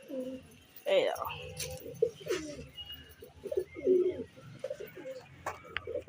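Pigeons coo in soft repeated throaty bursts near the listener, mixed with a few brief chirps, while someone talks over them.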